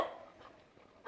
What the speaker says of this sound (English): Do you guys have anything else to do other than bark at me in the morning?